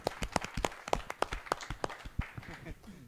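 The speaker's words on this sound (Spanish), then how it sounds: "Muchachos, un aplauso para ustedes." A small audience at a radio acoustic session applauds a banda group, with distinct close handclaps in an irregular rhythm that thin out and fade, while voices murmur underneath.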